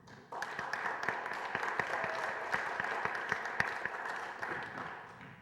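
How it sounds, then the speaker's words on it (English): A crowd at an Occupy gathering applauds. Clapping begins abruptly, then builds into a steady stretch with some sharp individual claps standing out, and fades slightly at the end. "So this is our chance to applaud you."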